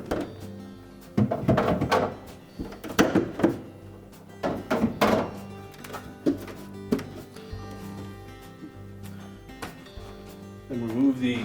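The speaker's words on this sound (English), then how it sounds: "So you would simply remove all of the door bins and any items that may be on the door." Plastic door bins are pulled from a Whirlpool refrigerator door, giving a series of irregular knocks, thunks and rattles close by, separated by quiet gaps.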